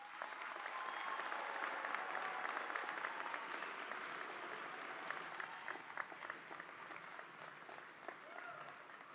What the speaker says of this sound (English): one last round of applause for our graduates